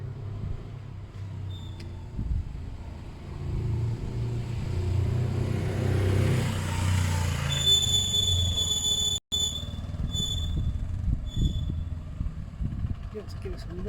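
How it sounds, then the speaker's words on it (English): A Suzuki GS500 500cc two-cylinder motorcycle engine revs up through its range after a carburettor clean and balance, a loud, steady rumble that climbs and holds, with voices talking over it. "It seems like it's going right up the rev range."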